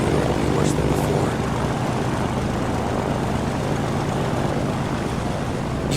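Steady, loud drone of a 1920s propeller plane engine in the VR flight game Sky Legends, a continuous airscrew roar holding even throughout, with a louder bump near the start.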